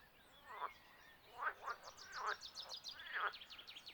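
Several frogs croak in rhythmic bursts, a few spaced calls with quicker chirping trills in the background, fairly faint against quiet outdoor ambience.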